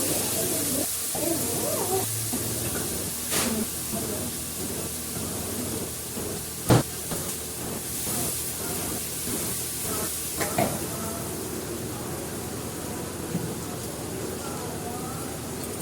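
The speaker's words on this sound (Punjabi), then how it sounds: "ਲਾਈ ਤੜਕਾ" Ground tadka tipped into hot oil in a village home kitchen, giving a steady, close hiss and crackle of frying that holds for the whole stretch, broken by a few sharp clicks and clatters of utensils.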